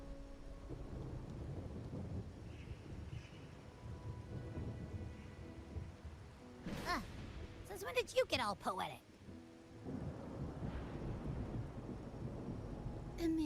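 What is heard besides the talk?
thunderstorm with howling wind in Wuthering Waves video game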